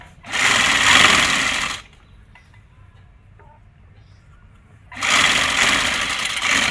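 A sewing machine stitching a Pakistani salwar, two loud, close, steady runs of rapid mechanical whirring separated by a few seconds of near silence.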